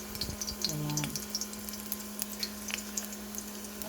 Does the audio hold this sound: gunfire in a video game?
no